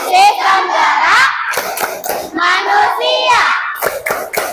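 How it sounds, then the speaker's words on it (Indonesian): Schoolchildren in a classroom perform the 'tepuk sistem gerak' clapping chant, loud sung voices in unison punctuated by sharp group claps in a rhythmic pattern, close by. "coba deh tepuk sistem gerak"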